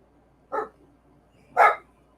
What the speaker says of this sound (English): Dog's going to start barking.